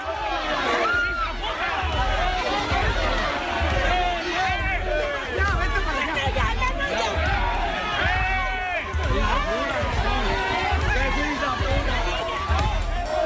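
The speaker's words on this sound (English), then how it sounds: "That chant from the crowds, from the pro-secessionist voters, is occupation forces get out" Pro-secessionist Catalan voters chant loudly and rhythmically as a dense crowd, a steady roar of voices repeating the slogan in regular pulses throughout.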